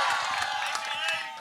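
Short burst of crowd cheering and clapping at a film trailer launch event, a dense wash of noise from a large audience, with a sharp sound at the very end.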